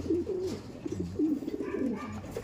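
Racing pigeons coo softly nearby, low throaty burbling calls repeating over a quiet background.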